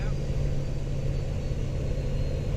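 A car engine in the game Minecraft rumbles loudly and steadily with a low, constant drone through the short stretch.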